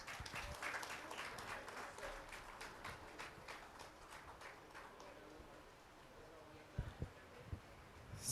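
Audience at a Garhwali movie trailer and music launch event claps, a loud burst at first that thins and fades over several seconds, followed by a few scattered knocks and handling noises.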